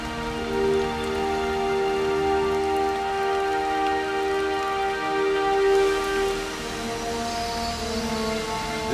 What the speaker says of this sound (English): This nourishing rain quenches the desert's deepest thirst.